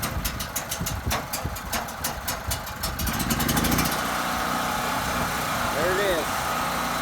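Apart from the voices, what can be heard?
generator starting up and running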